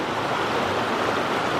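Creek water flows loudly and continuously, a dense close rush with no voices over it.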